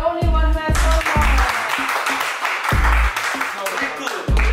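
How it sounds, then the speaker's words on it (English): Students in a classroom in Thailand clap together in short bursts, mixed with chatter and a teacher's voice talking over the applause. "Let's clap for City Chai."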